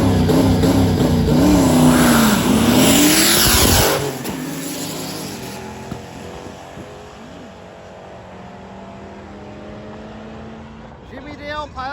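The Rotson drag car racing down the strip in a drag and drive event: a loud, roaring engine with a rising pitch for several seconds, then cutting to a lower, distant drone that fades and returns faintly at the end.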